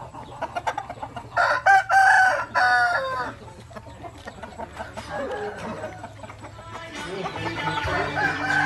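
Clucking and scattered bird calls lead into a young Thai fighting rooster's short, rough crow, followed by more crowing and farmyard chatter from other fowl.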